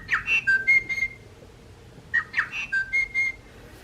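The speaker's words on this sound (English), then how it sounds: "And here's some birds that aren't by Wild Republic, but are also sound toys." A plush sound-toy tui bird plays its recorded call twice: each time a short run of clear whistled notes and chirps, faint and close, separated by a brief quiet gap.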